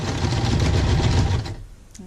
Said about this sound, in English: I sew all the way down